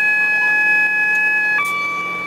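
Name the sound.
AWS self-test warning horn in DRS 37038 locomotive cab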